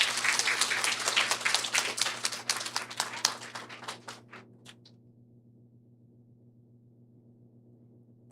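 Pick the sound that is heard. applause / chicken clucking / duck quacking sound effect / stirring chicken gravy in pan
applause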